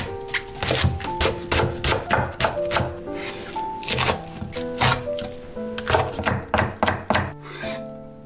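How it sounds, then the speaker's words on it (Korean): A knife chops vegetables on a cutting board in a sharp, uneven run of crisp thunks, close and clear with short pauses between bursts. "분량의 야채를 썰어줍니다"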